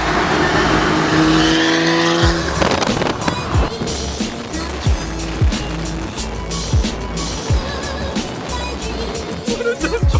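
A Porsche fitted with a loud $5000 aftermarket exhaust roars close by, engine revving and popping in repeated surges over a steady growl, while people talk over it.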